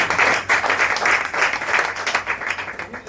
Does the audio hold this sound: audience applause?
yes